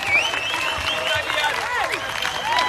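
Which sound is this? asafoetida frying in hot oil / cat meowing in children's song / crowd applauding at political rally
crowd applauding at political rally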